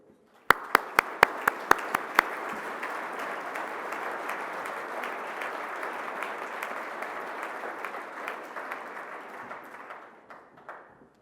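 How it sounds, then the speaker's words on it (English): Audience applause for a minister at a youth event, opening with several crisp individual claps before swelling into sustained, dense clapping that holds steady for about eight seconds and then fades out. "Could all give her a round of applause?"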